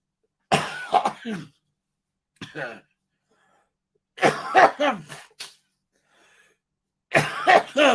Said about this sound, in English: I'll try to cough right now